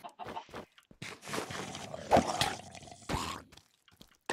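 Chicken clucks in the video game Minecraft, several short clucking bursts spread across the clip with gaps between, moderately loud and close, alongside other game sounds.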